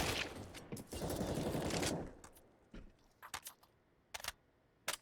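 Gunfire and a grenade in a Counter-Strike match between Sprout and North: a dense, loud burst of shots opens, then sharp single cracks and short volleys follow at close range, with no talk.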